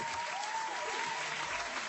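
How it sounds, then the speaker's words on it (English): Applause sound effect dropped into a podcast: a short burst of crowd clapping, dense and steady, fairly quiet and heard alone without talk. "Let me get the applause going for my guy."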